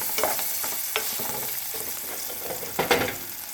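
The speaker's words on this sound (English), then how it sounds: "as my oil heats, I'm gonna add me my chopped onions. Awesome song. Love the sound of sizzle." Steady crackling sizzle of chopped onions frying in hot oil, with occasional stirring scrapes and pops, close and continuous.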